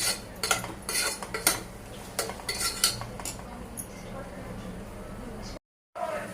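A spoon clinks and scrapes against a pan while salted tomatoes are stirred. The strokes come in quick bursts early on, then the sound settles to a quieter stir, and a voice is heard alongside.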